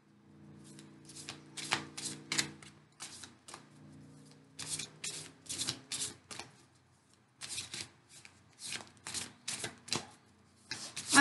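Tarot cards shuffled by hand in bursts of crisp riffling, pausing between rounds and starting again, close and fairly loud, with a faint low hum running under the first few seconds.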